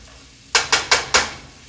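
Food is stirred in a frying pan, with four quick, evenly spaced scraping strokes of a utensil against the pan, loud and close after a brief quiet start.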